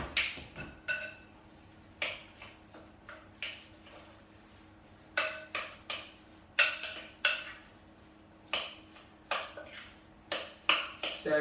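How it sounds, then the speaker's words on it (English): A spoon or utensil clinking and scraping against a bowl while stirring honey into mashed bananas, a series of sharp close taps and scrapes repeating irregularly, with quiet gaps between. "Stir it all around."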